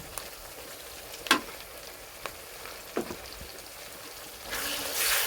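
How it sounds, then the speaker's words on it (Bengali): Desi chicken fries with ginger garlic paste in a pan, giving a faint steady sizzle broken by a few soft stirring knocks, and the hiss grows louder near the end. "ভালো করে ভেজে নিতে হবে"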